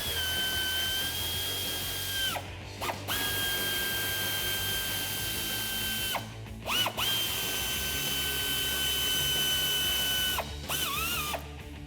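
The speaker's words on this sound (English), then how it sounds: "we're gonna grab the ratchet 8 millimeter socket. There's 5 bolts we're going to remove in the wheel well right here" A power ratchet or drill with an 8 mm socket backs out wheel-well liner bolts near the front bumper of a 2019-2022 RAM 1500, giving three long, steady whirring runs broken by brief ratcheting clicks, heard close with no talking.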